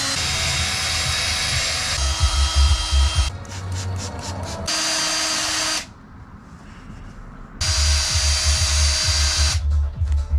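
Loud whirring of a power sander on a car headlight lens with 1000-grit paper, running in bursts, stopping and restarting several times, close by with no talking.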